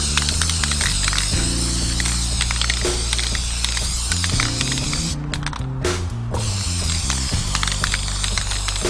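Continuous hiss of a spray gun applying clear coat finish to a wooden guitar pedal board, with brief pauses and bursts of spraying over a mechanical hum and rattling.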